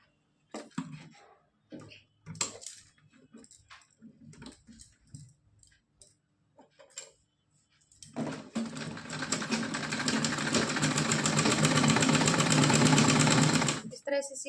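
A sewing machine runs a straight seam on a four-inch cotton strip for a night dress, starting after several seconds of handling clicks and soft talk, then a fast continuous mechanical rattle close up for about six seconds.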